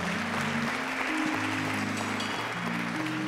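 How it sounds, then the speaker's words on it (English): A church congregation gives a hand clap of praise, steady dense applause filling the room under a sustained organ or keyboard chord, with no speech. "let's give God a hand clap of praise for that"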